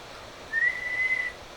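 A person whistles into a microphone during a bench test of a Varmint XL-250 amplifier, giving one clear, steady tone just under a second long over a quiet background hum.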